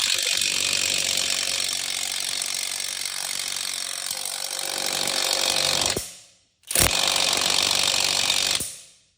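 A 3/8 Matco cordless impact wrench hammers on a lug nut of a 2003 Chevy Silverado, a loud rattling burst that stops, then a second short burst after a brief pause.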